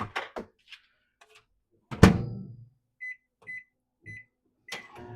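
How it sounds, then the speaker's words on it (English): A few clunks and a loud thud as something is set inside, then a microwave beeps three times in a steady rhythm, followed by a final clatter. "I'm gonna put it in my microwave"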